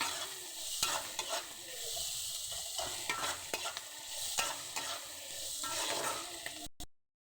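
Onions frying in a pan on a home stove while being stirred, with a steady sizzle and repeated scraping strokes close by, no voices, cutting off abruptly at the end.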